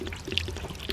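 Water poured in a short, gurgling splash lasting under a second, close and moderately loud, with no talking over it.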